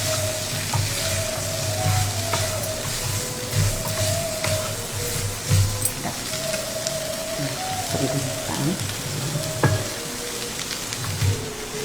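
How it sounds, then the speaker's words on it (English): Cooked black-eyed peas sautéing in oil for South Indian sundal produce a dense, continuous sizzle like steady rain, with occasional stirring scrapes, close and fairly loud. "it's already cooked, so just in the oil it needs to little saute"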